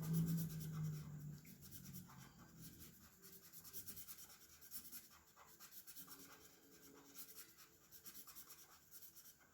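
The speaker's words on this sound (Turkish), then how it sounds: "kutusunu boyuyorum" Pencil coloring in a small box on paper, with faint, close scratchy rubbing strokes repeating steadily for several seconds, no talking.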